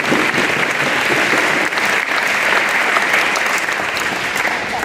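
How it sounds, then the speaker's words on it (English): Audience applause at a school Veterans Day assembly, a dense, steady wash of clapping that stays loud and sustained throughout with no talking. "Can we give her a big round of applause?"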